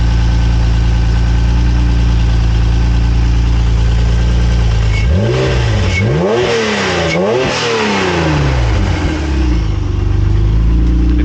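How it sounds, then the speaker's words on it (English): Turbocharged Honda NSX engine idling steadily, then revving in three quick rising-and-falling bursts, loud and close, before settling back to a steady idle. "The car didn't even rev that quickly when I gave the car to them."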